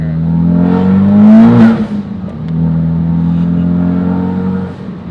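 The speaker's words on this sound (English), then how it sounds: "Overall, the best sounding blow-off valve on the market for the RS" Engine of a 2017 Ford Focus RS fitted with a Tial 50mm blow-off valve, loud and close, rising to a rev peak then settling into a steady droning hum with a brief dip mid-way.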